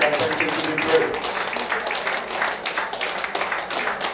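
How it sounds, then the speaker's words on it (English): Congregation clapping hands in praise during a church service, a dense, sustained round of many hands clapping at moderate loudness, with voices and speech mixed in underneath. "Clap your hand and thank Him, give Him praise."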